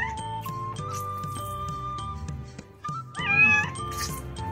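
A cat meows repeatedly while being bathed and massaged during grooming, its cries loud and close with a faint clinking underneath.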